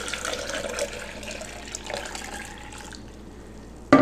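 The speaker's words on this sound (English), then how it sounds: "the first step for our experiment is to add 4 cups of warm distilled water to our blender" Warm distilled water pours steadily into a blender jar for several seconds, a broad splashing rush that thins toward the end, followed by a brief sharp knock.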